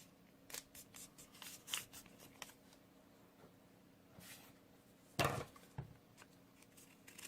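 Scissors snipping folded white origami paper for a dragon model, a quick run of crisp close cuts followed after a pause by a louder pair of snips.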